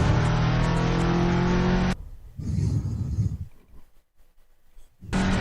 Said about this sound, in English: Getting that Miata up to speed.